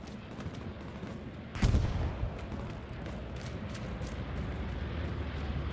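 Hell Let Loose battlefield: a sudden heavy blast from a bombing run bursts over steady background rumble, followed by scattered distant gunfire and thuds continuing in the distance.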